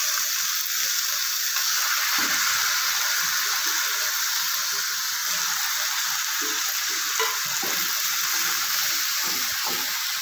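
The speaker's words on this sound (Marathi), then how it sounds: "मेथी आपल्याला छान परतून घ्यायची आहे।" Washed fenugreek leaves sautéing in oil with green chillies in a pan, a continuous bright hiss of frying with soft stirring clatter underneath, steady and close, no speech.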